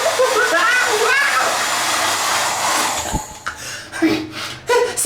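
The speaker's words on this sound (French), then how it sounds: "Aussi, j'utilise le sèche-cheveux," A hair dryer blows close and loud in a steady rushing whoosh for about three seconds, then cuts out, leaving short bursts of voice and movement.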